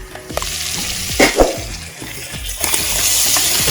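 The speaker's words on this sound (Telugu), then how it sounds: "ఒకసారి కలుపుకోండి, అడుగు పట్టకుండా కలుపుకోండి." Mutton paya curry is stirred in a pot, with wet scraping and clinking against the bottom over a soft sizzle and bubbling, close and moderately loud, with no talking.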